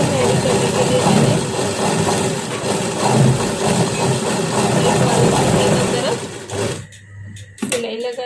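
A sewing machine stitches a coat collar, its motor running in a steady close mechanical whir with rapid needle rattle for several seconds before stopping abruptly, then a brief restart.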